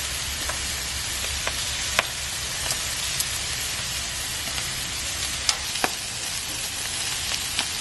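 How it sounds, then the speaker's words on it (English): Steady hiss of barbecue meat sizzling on a hot Blackstone griddle, continuous and close, with occasional sharp pops and crackles breaking through. "Sizzling barbecue."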